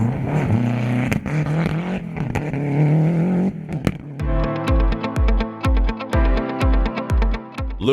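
A historic Lancia Delta rally car races on a gravel stage at the Rally Storico Valle del Tevere, its engine note rising and falling loudly before giving way to a run of sharp, regular bursts.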